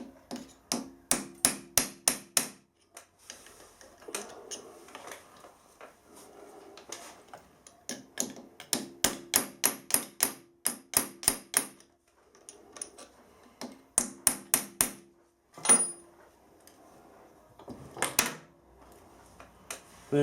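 A hammer strikes a 6mm transfer punch to make pop marks in a bracket that is wedged in place on a milling machine. The taps are sharp, metallic and close, coming in rapid clusters separated by short pauses.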